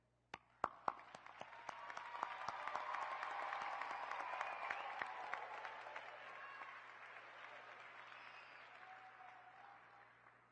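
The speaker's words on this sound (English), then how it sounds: "Please join me in applauding them" An audience at a university winter commencement applauds the graduating honorees. A few sharp, separate claps come first, then they swell into sustained, even applause that slowly fades toward the end.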